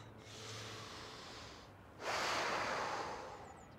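Deep breaths during a guided breathing exercise, a long steady exhale followed by a louder, forceful rush of air, close and alone with no talking.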